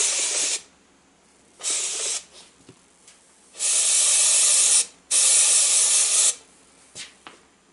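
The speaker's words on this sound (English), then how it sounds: "You have to rely on that electrostatic of the powder coat gun." An electrostatic powder coat gun sprays powder in loud, close hissing bursts of about one to two seconds, four main blasts separated by quiet gaps.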